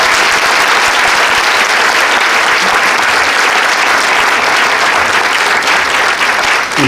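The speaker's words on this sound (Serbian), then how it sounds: "jedan aplauz za nju" Theatre festival audience applauding at a loud, steady level for a performer, a dense continuous wash of clapping that holds throughout without pause.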